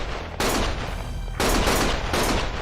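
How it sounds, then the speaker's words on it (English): Gunfire in a Yakuza video game: dense bursts of rapid shots arrive in three loud waves separated by brief lulls, sharp and close with no talk. "Stop shooting!"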